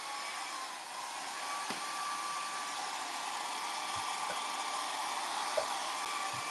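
A hair dryer blows on hair with a loud, unbroken whooshing drone, plus a few brief low knocks scattered through.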